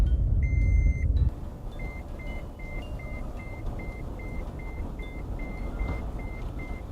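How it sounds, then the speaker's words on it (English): A car's seatbelt warning chimes in a steady, repeating series of short, evenly spaced beeps inside the cabin, after one longer tone at the start, over a low engine and road rumble. "I don't have my seatbelt on, so that's why it's beeping like crazy"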